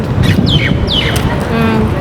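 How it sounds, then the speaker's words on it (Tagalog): Several bright, quick bird chirps with descending sweeps ring out over a noisy, rumbling background, fairly close by. "Hindi ba narinig niyo yung mga ibon?"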